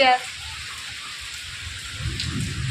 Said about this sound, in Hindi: अब बारिश थोड़ी कम हुई है, बीच में तो बहुत तेज हो गई थी